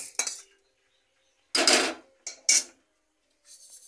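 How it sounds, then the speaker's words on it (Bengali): Dry-roasted mung lentils rattle and patter as they are tipped from a wok into a bowl in a few short, scraping bursts separated by silence. "ডাল আমার ভাজা হয়ে গেছে, এবার আমি এই বাটিটায় নামিয়ে নিলাম।"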